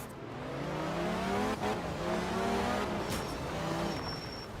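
Rally car engine droning and revving in the racing video game Art of Rally, with shifting harmonic engine tones rising and falling steadily throughout, loud and continuous, with a brief dip mid-run and faint high whines.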